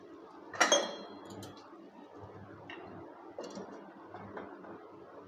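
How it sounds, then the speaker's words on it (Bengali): A lid goes onto a cooking pot holding vegetables and a little water for a pumpkin, potato and Malabar spinach dish, giving one sharp close clink, followed by soft kitchen ticks and rattles. "এবারে অল্প পরিমাণ জল দিয়ে ঢাকনা দিয়ে দেব।"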